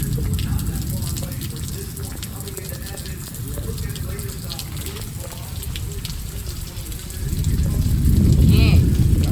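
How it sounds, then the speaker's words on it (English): Steady rain hisses continuously during a tornado storm in a residential neighborhood, with wind swelling louder toward the end. "It's raining now."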